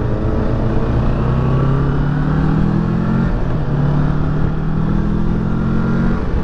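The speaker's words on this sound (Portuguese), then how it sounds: "É uma moto 650, né?" A 2018 Kawasaki Versys 650 ABS Tourer motorcycle engine droning steadily while riding, a continuous loud hum with gently shifting pitch and wind rush, and no voices.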